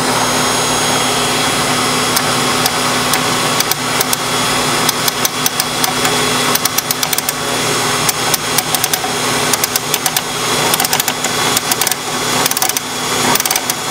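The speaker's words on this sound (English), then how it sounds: "I'm gonna go ahead and turn on the grinder." A Gaggia MDF coffee grinder runs steadily while its burrs are tightened, giving a loud, close, continuous motor whine with rapid clicking and rattling ticks throughout and no talking.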